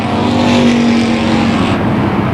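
NASCAR Pro Stock race cars at Tucson Speedway: a loud, steady engine roar with a sustained high whine that drops away near the end as the cars pass, with no voices.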